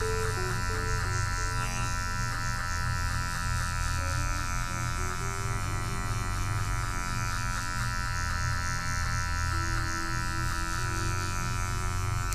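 Electric hair clippers fitted with a half guard buzz steadily and loudly, close up, while cutting a mid skin fade, holding a constant motor drone with slight shifts in pitch and no voices.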